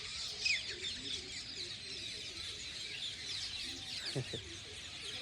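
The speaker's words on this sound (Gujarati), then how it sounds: "ધ્યાનથી સાંભળો ચકલાનો અવાજ કેવો આવે" Many sparrows chirping and twittering together in a steady morning chorus in a village, moderately distant, with a brief louder squeak near the end.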